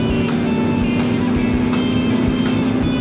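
An old BMW motorcycle with a boxer engine passes at a racetrack, its steady engine drone continuous and fairly loud for the whole stretch.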